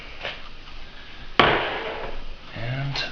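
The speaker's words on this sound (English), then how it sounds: "Just gonna dump 2 scoops of beans in there." Coffee beans poured into a burr grinder: one sharp rattling clatter as the scoop is dumped in, followed by a brief scattering hiss of beans settling.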